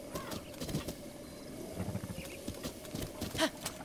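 Soft, steady clip-clop of horse hooves in The Legend of Zelda: Breath of the Wild, moderately close, with faint ambient chatter and occasional bird-like chirps in the background.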